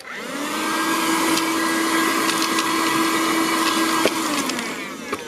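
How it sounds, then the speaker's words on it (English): An old USB-powered handheld vacuum runs steadily and loudly throughout, a continuous whirring hum with a couple of small knocks near the end, used while installing LED lights in a 2008 Ford Mustang S197. "Now we are going to vacuum under here. We got our old USB powered vac."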